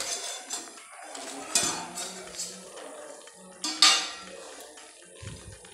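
A lid lifted off a pan where rohu fish fries in a banana leaf over a medium gas flame, giving a couple of faint metallic clinks and light rattles amid a soft sizzle.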